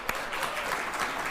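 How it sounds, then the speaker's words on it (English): Soft clapping rings out in a daytime talk show studio, a quiet, continuous patter with one sharper clap near the start. "One person's clapping for that."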